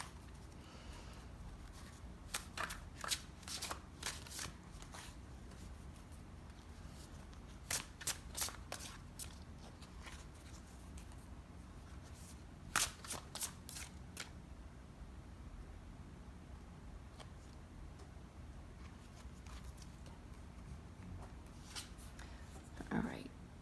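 Oracle cards being shuffled by hand, giving a steady papery riffle with repeated sharp flicks and snaps in clusters over a quiet room.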